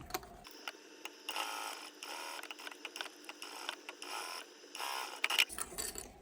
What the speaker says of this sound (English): just riding your presser foot along the side, just stitching around that U.